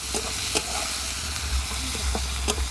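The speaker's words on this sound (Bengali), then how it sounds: "মশলাটা খুব সুন্দরভাবে কষানো হয়ে গেছে, এর থেকে তেলও রিলিজ হয়ে গেছে" Spice paste of cumin, coriander and chili powder with green chilies fries in oil, a loud continuous sizzle broken by a few sharp stirring scrapes.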